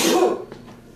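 A single sharp burst from someone's nose and mouth, loud and close, fading quickly into quiet.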